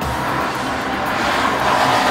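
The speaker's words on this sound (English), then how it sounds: "It's really smooth, and if you floor the throttle," A BMW 7-Series with a 5-litre twin-turbo V8 is driven at full throttle, giving a steady, loud engine roar with road noise for a couple of seconds.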